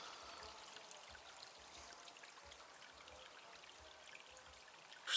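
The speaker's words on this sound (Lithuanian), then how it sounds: "Peliukas ramiai sau teka." A small forest stream flows calmly along an old defensive line in Lithuania, giving a faint, steady, soft wash with low, muffled thumps at regular intervals beneath it.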